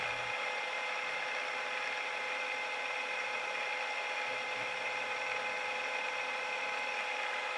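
A steady, high-pitched whine of a stub drill boring a shallow hole runs continuously and evenly throughout, close and fairly loud, with no voices.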